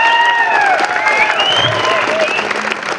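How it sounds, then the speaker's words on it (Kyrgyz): An audience at a boxing tournament in Kyzyl-Kiya claps loudly and steadily, with whistles and cheering rising through the dense applause. "бир катуураак эле кол чаап бериңиздер"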